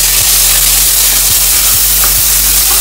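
Ginger garlic paste sizzling and frying in a hot pan, with steady loud crackle and a few soft scraping stirs across the pan; no voices.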